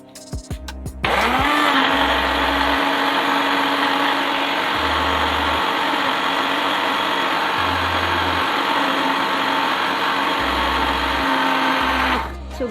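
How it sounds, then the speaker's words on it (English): A blender whirs steadily as it purees a popsicle mixture with a tablespoon each of honey and cornstarch, running loud and continuous for about eleven seconds before switching off. "So now we're gonna blend this."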